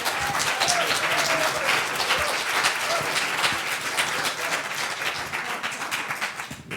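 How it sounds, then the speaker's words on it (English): An audience at a community event applauds: dense, sustained clapping from many hands that stays loud for several seconds before easing slightly. "give it a round of applause and Ndume one more time"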